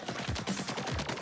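Rapid bursts of ink-weapon fire from Splatoon 3 story mode, a steady stuttering volley of close shots over a short stretch with no voices.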